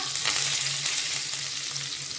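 Mustard seeds, cumin, asafoetida, chili pieces and curry leaves sputter in hot oil during tempering, giving a steady close crackling sizzle with faint stirring and no voices.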